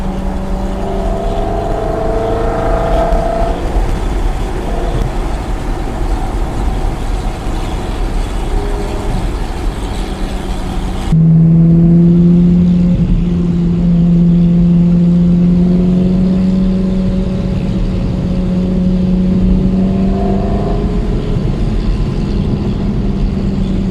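An old Amilcar car engine runs loud and steady, rising in a couple of revving pushes, then settles into a lower, heavier drone close by.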